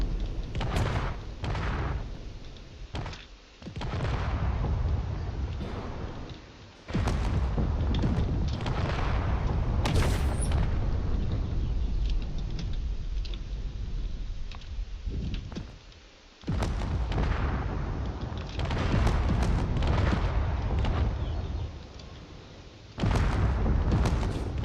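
Spaceship cannons fire and explosions boom in a space battle video game, dense loud blasts and rumbling bursts repeating with brief gaps over a sustained roar.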